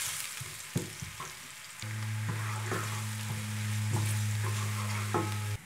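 Coarsely chopped garlic fries in oil in a wok with a soft, steady sizzle and a few scraping stirs, heard under a low, steady hum from the stove, close and fairly quiet, with no talking.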